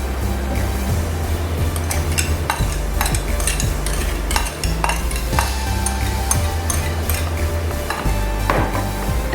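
A spoon stirs a creamy sauce into Russian fruit salad in a bowl, with repeated wet mixing sounds and light clinks against the dish. Steady tonal music plays underneath throughout.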